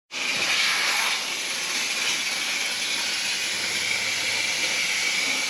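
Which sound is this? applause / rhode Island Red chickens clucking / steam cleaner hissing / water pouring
steam cleaner hissing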